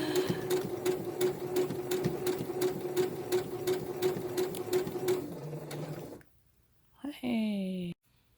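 Sewing machine stitching fabric in a fast, even rhythmic whir of needle strokes that runs for several seconds, stops abruptly, then a short voice follows.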